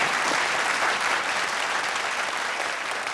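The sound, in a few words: audience applause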